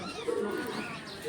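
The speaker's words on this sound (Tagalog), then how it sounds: "Ah, yung mga kalapati." Pigeons coo softly at a butterfly sanctuary in Bohol in the Philippines, giving a brief, low, warbling call that sounds close by against faint outdoor ambience.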